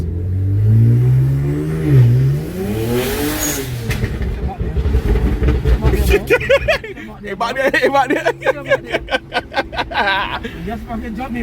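BMW 335i with the N54 engine, boost leak fixed and running on pump gas, pulls hard under full throttle, a loud close engine roar building with rapid shifts and turbo flutter, while a person chuckles and chatters over it.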